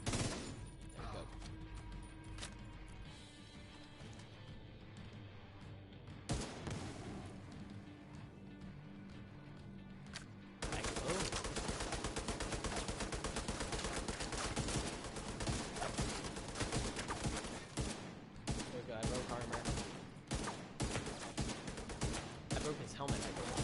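Rapid bursts of gunfire from a firefight in The Division 2, sharp and dense, with a quieter stretch early on before a long sustained barrage of shots fills the rest.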